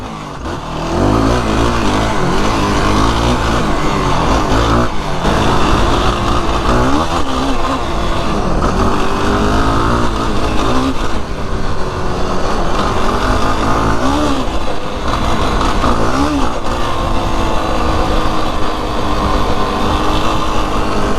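A 2025 Yamaha YFZ 450R ATV engine revs and holds in second gear while riding, a loud continuous buzzing drone with repeated rises and dips in pitch, heard close up.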